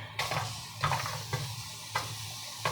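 Ginger and garlic sautéing in a pan for paksiw na hasa-hasa, a steady close sizzle with several sharp stirring scrapes at regular intervals, no talking.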